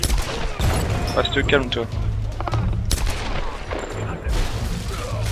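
Gunfire in the video game Tomb Raider, a few sharp gunshot bursts with booming tails over game ambience, loud and close, while someone speaks French over the action.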